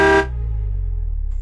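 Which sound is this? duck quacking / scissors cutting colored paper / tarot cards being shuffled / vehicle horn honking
vehicle horn honking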